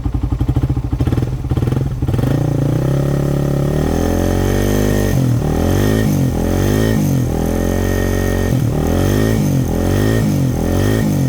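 A carbureted Suzuki Raider 150 motorcycle engine idles and runs close by, a loud steady putter with uneven pulses and slight rises in revs throughout.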